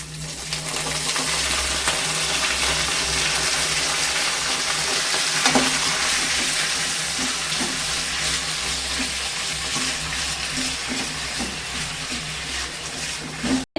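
Thuduvalai leaves sauté with garlic in a hot pan, a steady close sizzle with occasional spatula clinks and stirring scrapes throughout, ending abruptly.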